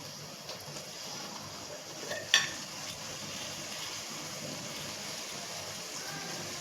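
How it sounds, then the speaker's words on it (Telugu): Chicken pieces with rock salt stirred in a pot for shahi biryani, giving a steady low sizzle and scraping texture with one brief clink of a utensil partway through; no talking. "ఈ సాల్ట్ కూడా మిక్స్ అయ్యేలాగా చికెన్ బాగా పట్టేలాగా ఇంకొకసారి మిక్స్ చేసేద్దాం"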